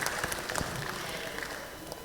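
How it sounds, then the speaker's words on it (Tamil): An audience at a Tamil book and reader event claps together in a room, a dense steady patter of applause with a few louder individual claps near the start, continuing throughout. "உங்களுக்கே நீங்கள் எல்லாரும் சேர்ந்து ஒரு கைத்தட்டல் கொடுத்துடலாம்"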